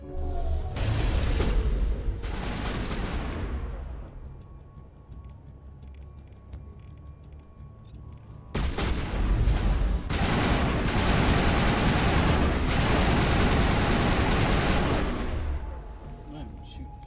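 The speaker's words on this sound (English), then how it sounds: "I'm shooting the shit out of his ass." Sustained bursts of automatic gunfire during a video game shootout, loud and dense, broken by a quieter stretch before a second long volley, with voices speaking over parts of it.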